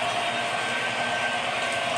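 An MTH model train running on conventional power rolls around the top layer of a home layout, giving a steady, close whirring and rumbling run with no pauses.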